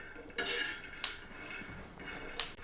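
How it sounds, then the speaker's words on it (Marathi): Metal spatula scraping and clinking against a pan while peanuts are stirred and roasted for fasting khichdi, a few sharp scrapes over soft rattling, fairly quiet with no talk. "सारखे शेंगदाण्याला असं उलटाने हलवून घ्यायचं"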